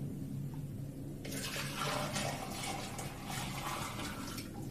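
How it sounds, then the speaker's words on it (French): Red cabbage juice poured from a vessel into a large container over a kitchen sink, a steady rushing splash that starts abruptly and runs continuously, close and fairly loud with no talk. "notre jus de chou, je vais pouvoir le verser dans un grand récipient"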